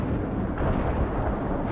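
A World in Conflict artillery explosion rolls out as a dense, continuous low rumble, loud and unbroken throughout the short span.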